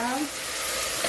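Pieces of mutton fry in hot oil for a desi mutton curry, giving a loud, steady, close hiss and crackle throughout, with a brief voice faintly at the start.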